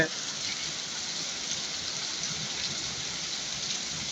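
Rain during a low-pressure storm in Chittagong, a steady, dense hiss of rainfall on surfaces with no breaks, moderately loud and close.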